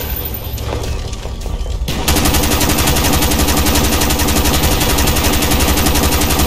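Sustained rapid automatic gunfire in Call of Duty Black Ops, a loud, close, unbroken stream of shots that kicks in hard after about two seconds, preceded by quieter scattered firing.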